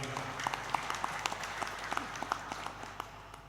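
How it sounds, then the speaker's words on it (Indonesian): Graduation ceremony audience applauding in a large hall, a steady wash of many hands clapping with scattered sharper claps standing out, moderately distant and continuous throughout. "Tepuk tangan juga."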